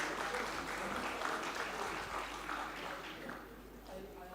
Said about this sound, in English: Can we have a round of applause for the panelists